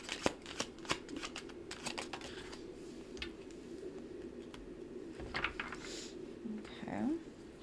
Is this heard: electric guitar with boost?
no